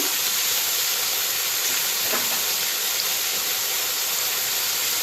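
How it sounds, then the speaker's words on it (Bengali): Oil heating in a pan before potatoes go in for frying, a steady, even hiss close by that holds unchanged throughout with no voices. "ওর মধ্যে আমি তেল দিয়ে দেবো আলুটা কষা ভাজার জন্য"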